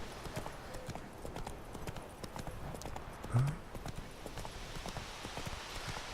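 Rhythmic clip-clop of hooves as Roach the horse is ridden in The Witcher 3, a steady trotting patter at moderate level with a brief louder thump partway through.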